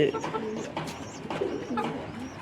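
Pigeons coo softly in a loft where eggs are being checked, with repeated low throaty calls close by and faint movement around them.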